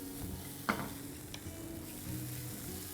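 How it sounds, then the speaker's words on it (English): Carrots and American corn stirred in a pan, a quiet continuous sizzle with a single sharp utensil knock and a fainter second tap, close by. "We need to give this a good mix."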